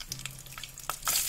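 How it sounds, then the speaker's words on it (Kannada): Onions fry in tempering oil seasoned with cumin, curry leaves, red chilli and a pinch of asafoetida, giving a faint, soft sizzle broken by several light stirring clicks and scrapes. "ಈರುಳ್ಳಿ ಇದು ಒಂದು ಸ್ವಲ್ಪ ಬ್ರೌನ್ ಕಲರ್ ಆಗೋವರೆಗೂ ಫ್ರೈ ಮಾಡ್ಕೊಳ್ಳಿ"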